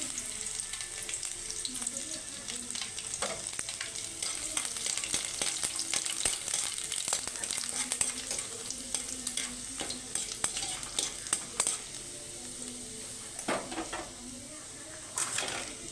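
Garlic dropped into hot oil after frying peanuts, giving a continuous close sizzle with scattered crackles and a few spoon knocks against the pan.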